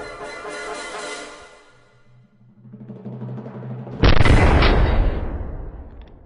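In the video game Ghosts of Tabor, a Barrett sniper rifle fires a single loud, booming shot that cuts in sharply after a quieter stretch of game noise and rings out in a long, rumbling tail.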